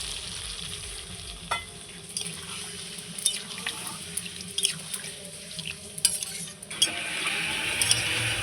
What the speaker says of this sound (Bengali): এবার পটল আলু রসার মধ্যে গ্রেভির জন্য একটু জল দিয়ে দেবো।